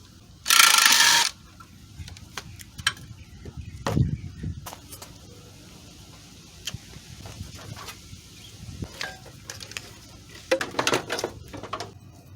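A ratchet works a 10mm bolt on the AC pipes of a Toyota Sienna during engine removal, giving scattered bursts of quick clicking and metallic clatter between quieter stretches, with one loud hissing burst early on.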